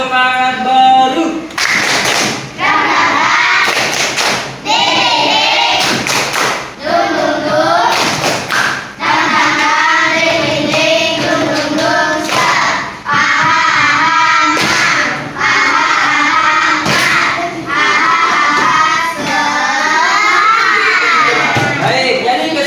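A class of children performs a new rhythmic spirit clap, repeated clusters of sharp claps punctuating lively group chanting and shouting, loud and near throughout.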